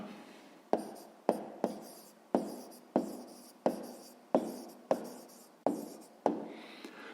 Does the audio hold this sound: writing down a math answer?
yes